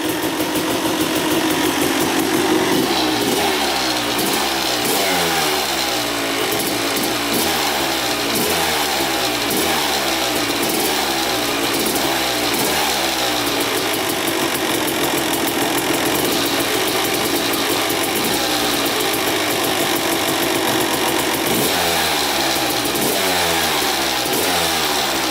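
A Suzuki dirt bike engine runs steadily, rattling and chugging with repeated rising revs that sweep up and fall back throughout, close and loud with no one talking.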